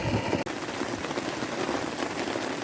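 Rain falls steadily at a wild campsite in Scotland, a dense, even hiss of drops on surfaces that continues without a break, close and fairly loud, with a brief dropout early on.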